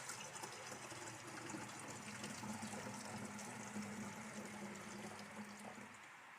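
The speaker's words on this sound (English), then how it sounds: "here's my funnel. I'm just going to pour that in there" Homemade water kefir poured through a funnel into an airtight bottle, a steady soft liquid stream running for several seconds at close range with no talk.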